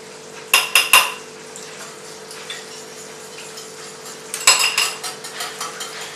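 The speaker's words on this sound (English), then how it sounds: "You have to mix very well because sometimes curry paste is difficult to mix with the cream and the egg." A spoon clinks against a bowl while yellow curry paste is mixed into cream and egg: a few sharp taps near the start, a quieter stretch, then a cluster of clatters and lighter scrapes.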